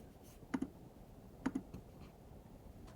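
Typing on a computer keyboard: a few faint, isolated clicks and short double taps spaced about a second apart in a quiet room, with no talking.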